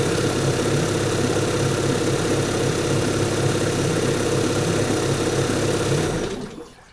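A 30 HP Evinrude E-Tec outboard engine runs at a steady, loud mid-pitched drone for about six seconds, then abruptly shuts down and fades to quiet.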